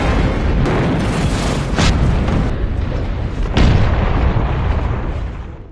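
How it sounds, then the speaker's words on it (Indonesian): A car bomb detonates beside an overturned car on empty ground in an action film, a loud sustained booming blast with rumbling debris, followed by a second heavy burst midway through before the roar fades out. "Jack yang gagah segera keluar tepat sebelum bomnya meledak"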